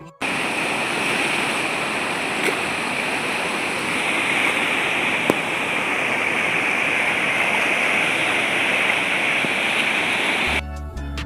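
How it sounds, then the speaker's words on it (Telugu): Water gushes through one opened gate of a dam near Khammam, a loud, steady roar of rushing water that stays dense and unbroken for about ten seconds before cutting off abruptly. "ఆ గేట్లో నుంచి చూడండి వాటర్ ఎలా వస్తున్నాయో. సౌండ్ అయితే బీభత్సంగా ఉంది ఇక్కడైతే."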